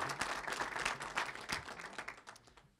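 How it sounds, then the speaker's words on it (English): A room at a school board meeting breaks into applause, many hands clapping in a lively, uneven patter that gradually thins and fades toward the end. "we need to give them a big round of applause"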